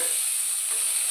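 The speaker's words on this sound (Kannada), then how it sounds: "ಈಗ ನಾನು ಮಣ್ಣೆಲೆಗೆ ತೆಂಗಿನ ಆಯಿಲ್ ಹಾಕಿ, ಈರುಳ್ಳಿ, ಕಾಯಿಮೆಣಸು, ಶುಂಠಿ, ಕರಿಬೇವು ಸ್ವಲ್ಪ ಹಚ್ಚಿಟ್ಟಿದ್ದೇನೆ" Onion, green chilli, ginger and curry leaves sizzle in hot coconut oil in a pan, a steady, close frying hiss that holds evenly throughout with no talking.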